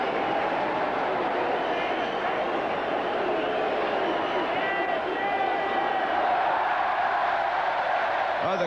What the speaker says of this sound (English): Oh, the crowd loved that.